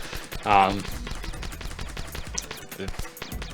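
Rapid gunfire from shooting blocks in The Desolate Hope, a burst of loud bangs early on followed by a steady stream of quick, close electronic shots with a voice talking over parts of it.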